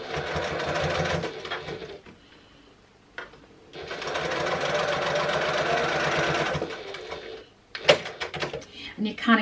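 Sewing machine stitching a fabric pouch in two runs of steady rapid whirring, a short burst then a longer stretch, with clicks and handling noises around them and a voice speaking nearby.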